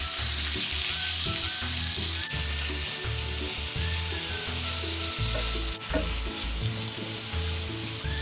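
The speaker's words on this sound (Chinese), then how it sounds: "蒜瓣油爆至金黄色后，再将肉片加入一起煸香。" Garlic cloves and slices of pork belly stir-frying in cooking oil over medium heat in a wok, a loud steady sizzle with clinking stirring strokes throughout and music playing underneath.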